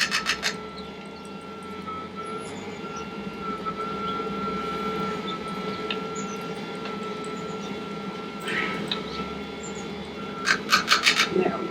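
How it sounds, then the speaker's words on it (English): A spatula scrapes the inside of a jar of spent grain dog cookie dough with soft, continuous rubbing and rasping, close by, with a few sharper scrapes near the end. "we are just doing our best to scrape the jar out thoroughly."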